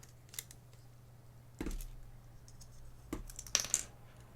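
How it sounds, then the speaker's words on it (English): Keycaps being pulled off a mechanical keyboard during a build, a few separate sharp plastic clicks and snaps spaced about a second apart against a quiet background hum. "Probably take those keycaps off now."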